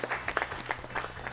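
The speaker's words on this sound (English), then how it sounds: "Let's clap for team three." A national school quiz competition audience claps briefly for a team, a quiet patter of scattered applause.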